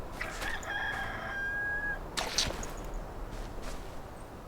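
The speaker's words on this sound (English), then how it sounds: "I hear a rooster that doesn't exist." A single rooster crows once in the video game Enshrouded, a drawn-out call over steady background noise, followed by a few faint clicks.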